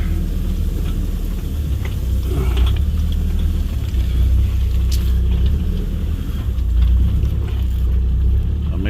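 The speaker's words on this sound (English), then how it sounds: "I'm actually driving over the fence wire that I had in here" A vehicle on Eua island, Tonga, rolling over fence wire: a loud, continuous low rumble with steady mechanical rattling and clanking throughout, no talk.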